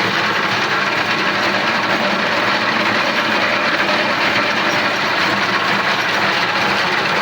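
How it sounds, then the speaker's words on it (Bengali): A mill machine that makes wooden leaf plates and spoons runs with a loud, continuous mechanical roar and rattle, unbroken and close. "মেশিনের জন্য আওয়াজ কম বেশি হচ্ছে"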